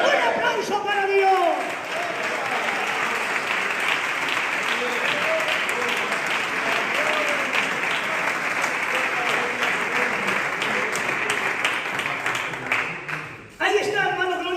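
A church congregation applauds during a Bible study on the Trinity, sustained dense clapping with a few voices and shouts mixed in, running steadily before a speaker's voice returns at the very end.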